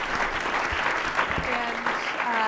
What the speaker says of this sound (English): I think our panelists deserve a round of applause for a very spirited debate.